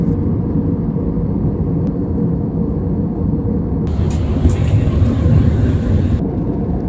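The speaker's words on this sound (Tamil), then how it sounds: "வானத்தில் மேகத்துக்கு மேலே ஃப்ளைட் வந்துருச்சு." An airplane in flight above the clouds, heard as a loud, unbroken engine and air roar that stays constant throughout, with a slight brightening of the hiss partway through.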